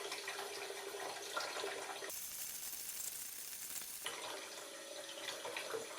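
Water runs steadily from a tap into a tank in a flow-and-drain demonstration, a continuous broadband hiss heard close and alone, with a sharper, brighter stretch in the middle of the flow.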